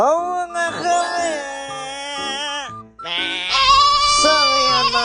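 Goats bleating at a goat farm in San Miguel, several loud, wavering calls close by, one after another with a short pause near the middle and no talk.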